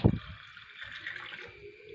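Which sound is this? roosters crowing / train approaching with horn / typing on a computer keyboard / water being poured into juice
water being poured into juice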